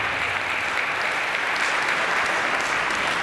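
Sustained, dense applause from an audience greets the newly announced student government officers at a university ceremony, steady and even throughout with no voice over it.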